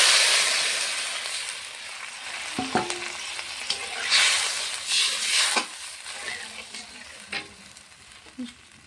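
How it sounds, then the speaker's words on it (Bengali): Water poured into frying onion and spice masala with coriander powder sets off a loud, steady sizzle with hiss and stirring clatter, continuing near and alone without talk. "জল দিয়ে দিয়েছি, এখন দিয়ে দেবো একটু নুন।"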